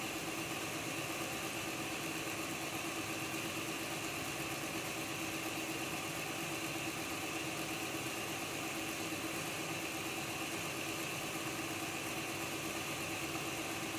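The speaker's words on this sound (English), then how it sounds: "Now that motor is not going at full speed" Electric motor of an Accurascale Class 55 Deltic model locomotive, which has a fault, running steadily below full speed, giving a continuous whirring hum at even loudness with no talk.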